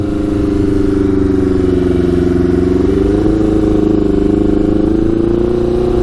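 A 100HP Yamaha Banshee quad roars loudly in second gear, its engine note holding a strong, steady drone throughout as it accelerates.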